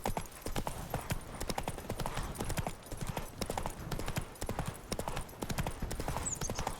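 In the video game The Witcher 3, a ridden horse's hooves clip-clop in a quick, steady trotting rhythm, close and continuous, against faint ambient background.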